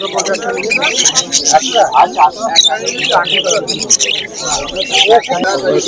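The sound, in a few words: caged pet birds at a bird market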